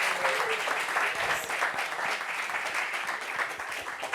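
Steady applause from a studio audience welcoming a guest, many hands clapping in a dense even wash, loud and sustained, with a voice briefly audible beneath it.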